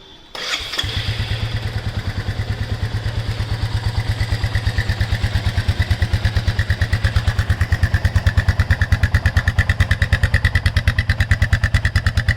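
A Royal Enfield Meteor 350 engine fires up and settles into a steady, muffled idle through a genuine accessory exhaust with dB killer fitted, its exhaust thumping in a fast, even rhythm throughout.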